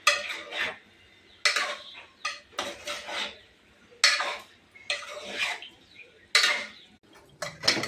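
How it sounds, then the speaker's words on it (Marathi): Chicken pieces being stirred in a cooking pan give about seven separate bursts of metallic scraping and clinking, close and clear with quiet pauses between strokes. "चिकन टाकून घेतलंय. आता हलवून घेतोय."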